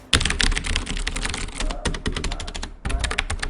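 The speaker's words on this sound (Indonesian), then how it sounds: "Suara yang dihasilkan juga cukup sunyi, walaupun tidak sesunyi keyboard membran standar." Rapid, continuous typing on a Logitech G710+ mechanical keyboard with Cherry MX Blue switches, a dense run of sharp clicky keystrokes close to the mic with one brief pause near the end.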